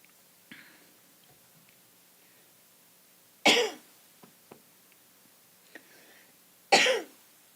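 Two loud, harsh coughs a few seconds apart, with a softer throat-clearing sound earlier and small mouth noises in between, close to the mic.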